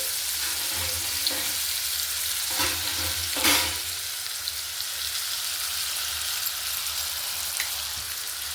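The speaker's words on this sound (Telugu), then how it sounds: "ఇప్పుడు ఆనియన్స్ వేసేసుకుందాం కొంచెం ఆయిల్ ఎక్కువ వేసుకోండి" Sliced onions frying in plenty of oil for a dry fish curry, a constant close crackling sizzle with a few soft stirring scrapes from a ladle, no talking.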